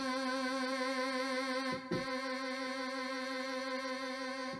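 A Yamaha Genos keyboard holds a sustained note with modulation held on, producing a rich, steady tone with a continuous vibrato waver. The tone dips briefly partway through, with no talking.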